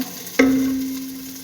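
Onions stirred in a pan during home cooking: a single sharp scrape of the utensil, followed by a sustained tonal ring fading slowly, with faint frying underneath and no voices.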